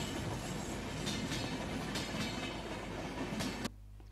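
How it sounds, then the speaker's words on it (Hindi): A train runs along a railway track in Muzaffarnagar, where the rail clips are loose during repair work, making a continuous rumbling rush with faint clatter at moderate distance before the sound cuts off abruptly near the end. "यहां पे रेल पटरी में ट्रेन दौड़ती नजर आई"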